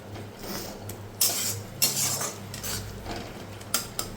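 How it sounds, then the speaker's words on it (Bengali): Spice masala being stirred and sautéed in a pan, with a utensil scraping and clinking against the metal in a few sharp strokes over a steady low hiss, close and moderately loud. "এটাকে এখন ভালো মতো কষাতে হবে যতক্ষণ না মশলা থেকে তেল ছাড়বে ততক্ষণ।"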